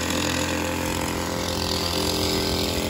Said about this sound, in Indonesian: Lumayan berisik juga karena menggunakan mesin 2 tak.